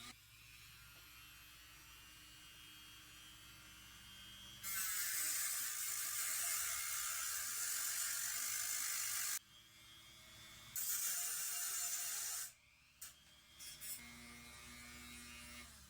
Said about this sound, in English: Get the Dremel going.